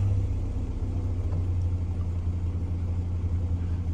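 A 1956 Morris Minor split-screen two-door with its original engine, warm and idling steadily: a close, even low rumble with no talk over it.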